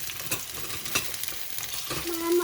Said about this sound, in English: So I just have some hot olive oil in there. And I'm just gonna saute my potatoes for a little while.